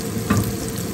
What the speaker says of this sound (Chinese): 我们现在要来开始煎这个牛排粒了啊